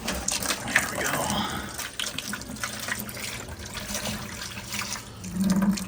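Water drains from a disconnected water softener drain line, presumably into a waiting bucket, as a steady, continuous rushing trickle that holds at a fairly even level throughout.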